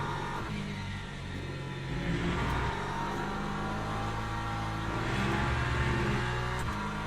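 A race car engine in the sim racing game Le Mans Ultimate at Silverstone, a loud harmonic drone that rises and falls with throttle and gear changes, close and alone without talk.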